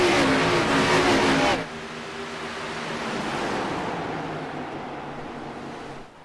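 Race cars battle on track at the Cornfield 150, a loud roar of engines and rushing broadband noise that swells for the first second and a half, then settles into a steadier, slightly more distant rumble as the pack passes.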